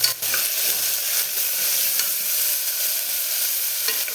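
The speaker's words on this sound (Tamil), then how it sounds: "அப்படியே நம்ம இப்போ இதை வதக்கலாம்" Onion, tomato and asafoetida sautéing in a pan for a cabbage kootu, a steady close sizzle of frying with faint stirring scrapes now and then, no talking.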